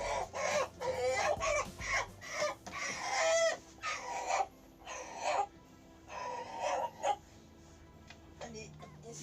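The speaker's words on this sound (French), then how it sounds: "Alors voilà le coq." A rooster rescued from a street, clucking and squawking in a house, with repeated bursts of loud, close calls at irregular intervals, mixed with some handling noise.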